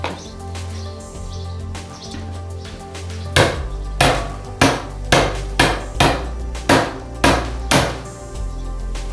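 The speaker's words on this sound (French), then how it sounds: "au tournevis à frapper" An impact screwdriver is struck by a hammer to free a stuck screw on a Derbi Senda scooter engine during crankshaft bearing replacement, giving about eight sharp, loud metallic blows at a steady rhythm over faint background birdsong.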